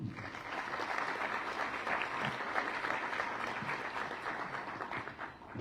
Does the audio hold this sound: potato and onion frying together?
no